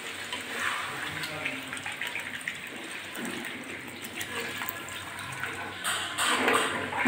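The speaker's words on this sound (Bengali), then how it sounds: "আমি এখন জল দিয়ে দিচ্ছি" Plain room-temperature water pours into a pot of cooked spicy red chicken curry, a steady splashing, gurgling stream close by that swells louder near the end, with no talking over it.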